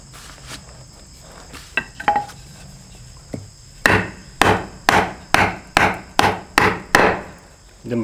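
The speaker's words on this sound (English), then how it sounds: "Then baton it all the way through" Knife batoned down through a piece of wood to split it for a bow drill set, a run of about nine sharp, evenly spaced wooden cracks and thuds, close and loud, after a few quieter taps, with outdoor insect buzz behind.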